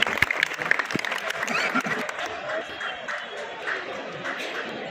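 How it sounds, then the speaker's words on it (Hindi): A crowd at a protest gathering at Ajmer Sharif breaks into clapping and cheering, a dense wash of applause that starts sharp and then settles into a steady, moderately distant roar. "तालियों के साथ तालियां बजाइए, उनका हौसला बढ़ाइए"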